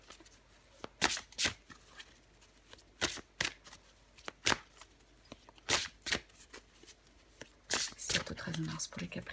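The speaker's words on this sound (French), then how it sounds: "Je vais encore tirer une carte pour vous, les Capricornes." Tarot cards being shuffled by hand in repeated crisp riffling bursts, close and fairly soft against a quiet room, with brief pauses between runs.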